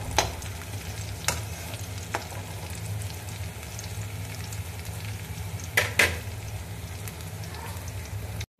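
Chopped garlic cloves sizzling steadily in a pan while a spoon stirs, with a few sharp scraping clicks against the metal over the continuous close frying hiss; no talk.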